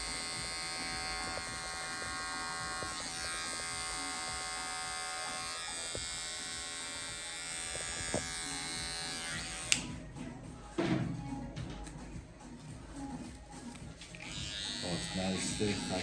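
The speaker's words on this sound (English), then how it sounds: "Use a trimmer with moving finger" Electric hair trimmer buzzing steadily and close during a classic tapered fade haircut, its whine continuous for most of the stretch before briefly cutting out and resuming, with a voice speaking under it.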